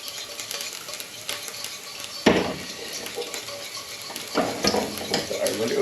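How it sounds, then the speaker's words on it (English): A whisk stirs eggs and milk in a bowl for mini frittatas. The rapid, light scraping and clinking is fairly quiet and close, with a few sharper knocks against the bowl. "Basically eggs in there, milk, bit of whisk around"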